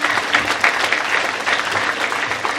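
An audience at a Tamil motivational speech breaks into steady, dense applause, many hands clapping together at close range with no pause.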